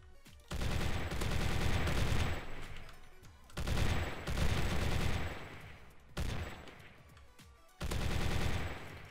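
Heavy weapon gunfire in Minecraft pounds out in four long, dense bursts of rapid shots separated by short pauses, loud and close, with no talk over it.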